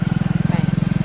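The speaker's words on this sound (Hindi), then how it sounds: "एटा पछरे गोटे गाड़ी आउची बाइक आउची" A motorcycle engine thrums in a fast, even pulsing beat on a dark road at night, a steady low throb heard close with no speech over it.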